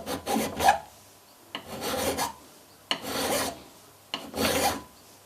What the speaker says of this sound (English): If this is hardened, this file will just skid over the surface.